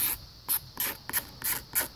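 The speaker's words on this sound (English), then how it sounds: "I'll take a Dremel and I'll buff it" A Dremel buffs heavy oxidation off the plastic of a 1985 Yamaha Tri-Z 250. Six or so short, hissing abrasive strokes come in a steady rhythm, close up and with no talk.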